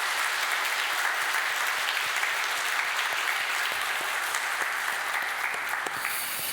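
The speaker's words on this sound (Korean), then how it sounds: "우리 힘차게 크게 박수 한번 하도록" A church congregation bursts into loud, sustained applause during a Sunday worship service, a thick wash of many hands clapping that stays even and full throughout without letting up.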